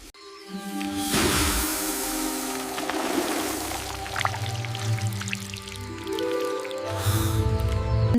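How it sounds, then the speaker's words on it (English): Dark, viscous liquid drips from a rock ceiling inside a narrow fissure, thick wet squishes and drips repeating over sustained low musical tones, with no voices. "the dark, viscous liquid begin to drip from the ceiling, inches from her"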